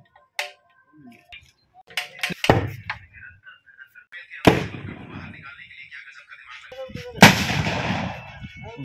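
Carbide cannon booms set off for Diwali, several sharp blasts spread out with dense crackly tails, loud and close, with noisy outdoor background between them.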